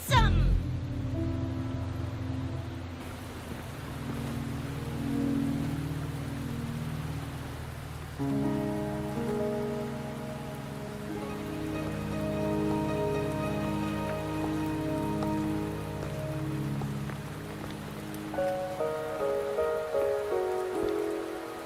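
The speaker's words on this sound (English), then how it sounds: "Are you trapped here by the rain?" Steady rain falls in the video game Wuthering Waves, a constant patter layered beneath sustained tonal music throughout.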